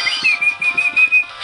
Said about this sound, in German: also so klingt es nochmal, was ich pfeife